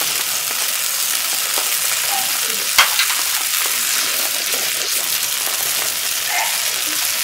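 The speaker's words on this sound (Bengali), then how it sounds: "মশলাটা ভালোভাবে কষাই নিতে আছি, দেশি কই মাছ ভুনা করব" Spice paste sizzles and fries steadily in hot oil for a bhuna of desi koi fish, a close, continuous crackle with a few sharper stirring knocks, and no talk.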